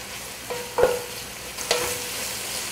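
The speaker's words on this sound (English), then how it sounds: "you need to constantly stir the onion, otherwise it will burn" Onion fries in a little oil over a faint steady sizzle while a utensil knocks against the pan twice, two short close clacks with quiet frying between them.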